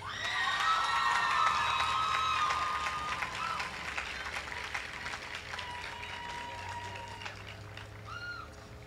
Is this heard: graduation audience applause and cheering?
yes